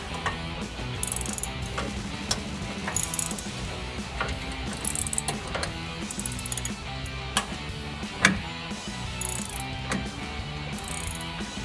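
Hand ratchet clicking steadily while tightening the mount of a RedRock bed side rock rail on a Jeep Gladiator JT, working overhead; a close, rhythmic series of metallic pawl ticks repeating in short bursts throughout.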